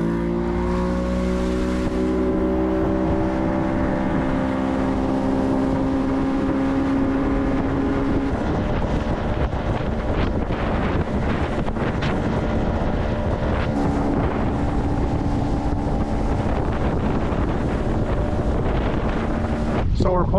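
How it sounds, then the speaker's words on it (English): A boat engine runs steadily on a lake, a continuous drone with shifting harmonic tones under heavy wind buffeting on the microphone throughout. "I don't know why this engine is running way better than it did last year on our vacation"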